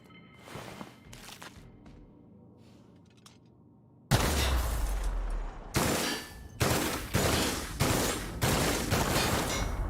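In The Outer Worlds, a weapon fires at landmines in rapid bursts, starting with a few quieter shots and then a loud, sustained volley of repeated blasts with no talking.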